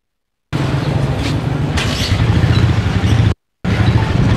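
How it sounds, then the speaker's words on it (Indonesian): Motorbikes passing through a narrow alley, a steady loud engine drone that swells as they go by, briefly cut off and then resuming. "jadi banyak motor yang lalu lalang, yang lewat-lewat motornya"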